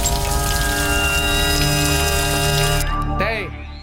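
Water runs steadily from a household tap, a continuous hiss that stops abruptly near the end, followed by a brief tonal squeal as the flow dies away.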